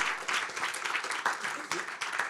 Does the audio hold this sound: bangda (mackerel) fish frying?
no